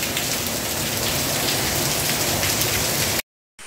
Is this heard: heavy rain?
yes